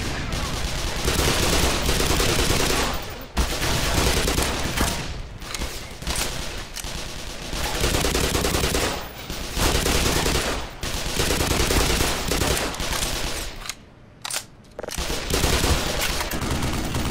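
Sustained automatic gunfire in the shooter game Black Mesa, dense loud bursts of rapid shots rattling almost continuously for many seconds, broken by brief pauses.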